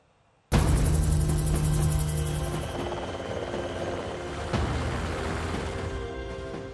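Military helicopters deployed on the Ladakh border with China give a loud, steady rotor and engine roar that starts abruptly and holds, with a brief swell partway through, and no talk over it.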